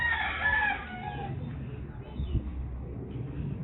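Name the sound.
rooster crowing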